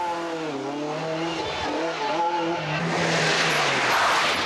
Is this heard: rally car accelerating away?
yes